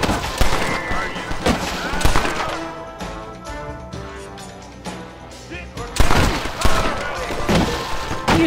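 Rapid lever-action repeater rifle fire in Red Dead Redemption, loud bursts of shots with scattered crashes in a frantic gunfight, fading briefly before another heavy volley.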